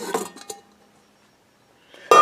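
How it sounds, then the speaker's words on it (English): Inner pot lifted out of a COSORI 18-function rice cooker with stainless steel steamer, a few short metallic clinks and scrapes close by at the start, then quiet, then a sharper clatter at the end. "Take the pot out."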